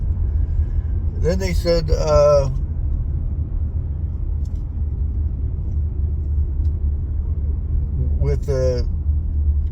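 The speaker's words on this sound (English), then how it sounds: "there is a lot of traffic" Steady low road traffic rumble in a busy town, loud and continuous throughout, with a voice speaking briefly over it twice.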